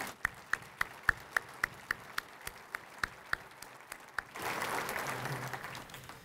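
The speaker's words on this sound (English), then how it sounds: "Let's give Fire Chief Kenny Gabriel and his staff a big round of applause." At a city address in Coeur d'Alene, one person claps about fifteen slow, evenly spaced times for a fire chief and his staff. A brief, fuller burst of crowd applause follows, all faint and distant.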